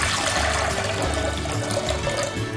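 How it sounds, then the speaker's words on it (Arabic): Water pours steadily into a cooking pot to boil pasta in a home-style kitchen, a continuous close, fairly loud splashing gush with no talking. "هنحط ميه الاول لسلق المكرونه"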